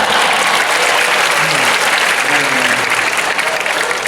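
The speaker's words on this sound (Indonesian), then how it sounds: "Jadi sok tepuk tangan mah." An audience at a religious lecture gives steady, loud applause that fills the space throughout, with a few faint voices underneath.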